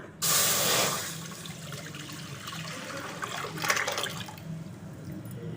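Homemade rasam is poured into a hot, dry pan, a loud close rush of liquid that settles into a continuous sizzling, bubbling trickle.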